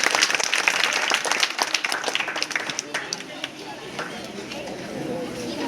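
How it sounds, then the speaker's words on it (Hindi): An audience at a Miladunnabi religious gathering breaks into dense, loud clapping that gradually thins and softens over a few seconds. "थोड़ा सा ताली मार दीजिए"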